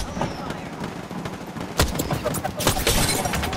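Dense automatic gunfire in an online shooter game as a player on a roof is targeted, loud, sustained crackling volleys with a few heavier impacts.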